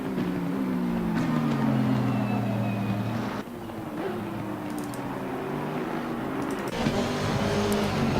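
GT3 race cars in a wet race at Brands Hatch in the Assetto Corsa Competizione video game: a steady engine drone with shifting pitch and gear changes, a brief dip midway, other cars audible behind, no voices.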